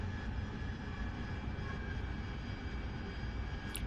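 Steady, loud roar of an AV-8B Harrier jet engine in the DCS flight simulator during a carrier training mission, a continuous rumbling drone with a faint high whine near the end and no speech.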